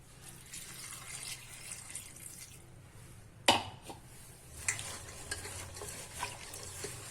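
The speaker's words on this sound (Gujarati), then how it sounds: "હવે આમાં આપણે ફરી છાશ નાખી દેશું" Buttermilk poured over salted cluster beans (guvar), then mixed by hand or spoon in a bowl: a quiet wet sloshing with a sharp clunk partway through and soft squelching stirs after, close and without speech.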